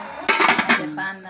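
A metal lid goes onto a pot of simmering fish curry with a quick clatter of a few close, bright clanks, then settles into a softer ringing hum.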